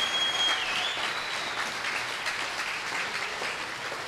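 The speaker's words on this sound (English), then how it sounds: "Yates and Tereschenko get a standing ovation from the crowd here." A crowd at a pickleball mixed doubles match gives a standing ovation, with sustained dense applause and a faint whistle near the start.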